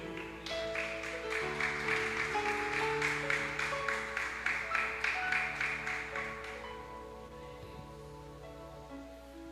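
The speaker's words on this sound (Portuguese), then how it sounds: "Você pode aplaudir o Senhor?" A church congregation claps in a steady rhythm over sustained keyboard chords during a worship service, the even beat carrying for several seconds before stopping while the music lingers.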